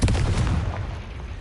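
A Confringo blasting spell explodes in the Hogwarts Legacy video game: a single loud, deep boom that hits at once and rumbles away over about a second.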